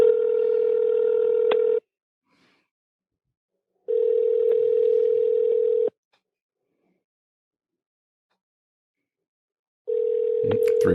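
An outgoing telephone call rings three times: long, steady, loud ringback tones separated by silent gaps, with the third tone cut off at the end.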